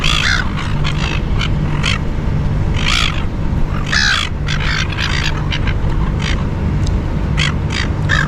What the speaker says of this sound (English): I think I got about 30 seagulls now.